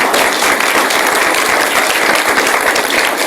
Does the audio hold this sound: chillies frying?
no